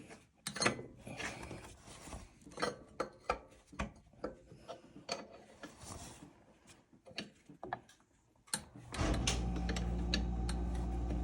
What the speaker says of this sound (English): So the pulley is coming off.